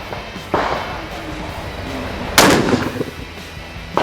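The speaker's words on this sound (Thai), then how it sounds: "ผมจะทำการยิงลูกซองเมเดต้าทีวันกระบอกนี้ครับที่ระยะ 20 เมตร" A Beretta T1 pump-action shotgun with an 18.5-inch barrel fires at a target 20 metres away: two sharp, loud blasts about two seconds apart, the second heavier, each trailing off in a brief outdoor decay.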